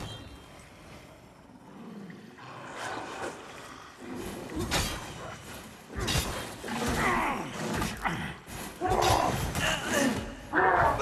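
A hostile dog in the dark-fantasy game Lords of the Fallen barks, snarls and yips in rough bursts, mixed with clashing combat noises and rising in intensity toward the end.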